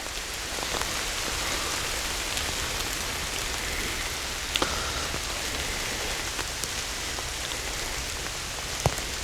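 Heavy rain pours steadily outdoors at night, a dense, even hiss of drops striking surfaces close by, with occasional sharper drips and taps standing out.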